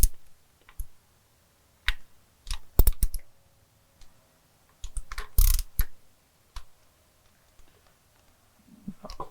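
Torque wrench clicking while head studs are tightened to 25 foot-pounds on a 6.0L Ford Powerstroke engine: a series of sharp, close clicks spaced irregularly, with a few louder bursts near the middle and quiet gaps between.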